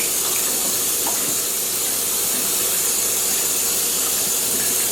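Tap water runs steadily over a whole raw chicken with the tail cut off, rinsed in a kitchen sink; a close, even hiss and splash holds throughout, with no talking.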